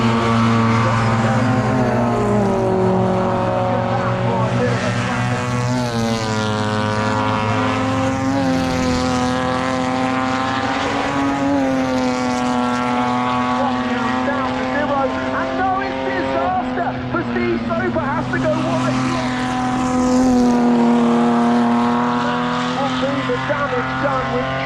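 Classic race cars, including a Ford Thunderbird, roar through the final chicane in the St Mary's Trophy race at Goodwood Revival. Loud, sustained engine notes rise and fall steadily under a commentator's talk.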